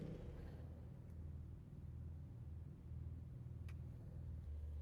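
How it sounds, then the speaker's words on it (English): A Porsche 911 Carrera GTS race car in an anime racing scene gives off a steady, low engine rumble that carries on throughout without any speech. "Driving the 8 car, the Porsche 911 Carrera GTS, is Jackson Taylor."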